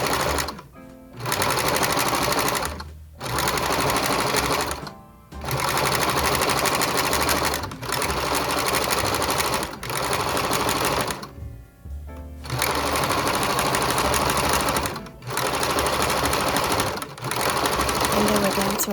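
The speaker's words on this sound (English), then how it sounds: "So I'm going to start sewing from there and just sew it down" A sewing machine stitches fabric for a scrunchie, running in loud, rapid whirring bursts separated by short stops, close up, with a voice talking over it.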